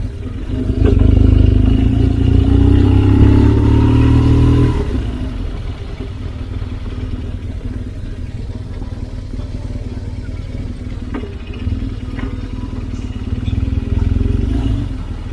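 Engine of a 2008 GS motorcycle while riding in the Black Hills of South Dakota, a loud steady drone with a rising rev in the first few seconds, then a lower, even running note that swells again near the end.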